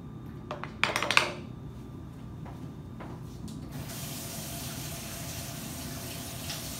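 At a kitchen sink, a few dishes clatter and clink near the start, then a tap opens into a steady, fairly close rush of running water that continues to the end.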